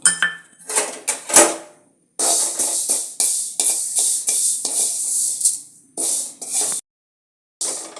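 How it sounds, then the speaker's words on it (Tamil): Fenugreek seeds dry-roasting in a pan, heard as bursts of rattling, scraping stirs against the metal broken by short pauses, close and fairly loud with no talking. "வெந்தயத்தை போட்டு அதே மாதிரி வறுத்துக்கலாம்"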